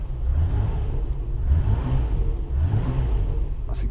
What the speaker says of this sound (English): That engine is really starting to sound very nice these days.